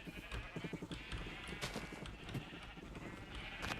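Sheep bleating in a Minecraft server game, several short bleats mixed with soft clip-clop footsteps, fairly quiet and crowded, with faint background voices.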